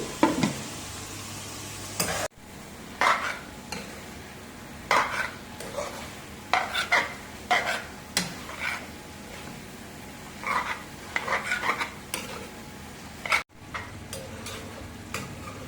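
Onion and garlic sizzle gently in a pan while a utensil stirs and scrapes in a steady series of close, sharp strokes over a low frying hiss.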